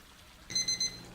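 A loud electronic alarm suddenly starts beeping in bright, high tones, giving three strong pulses in quick succession over a low background hum.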